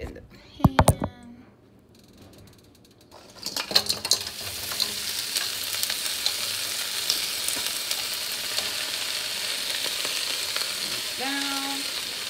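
Food dropped into a hot pan starts frying, a brief clatter and bump followed by a sustained bright sizzle that carries on steadily to the end, with a few short sounds over it.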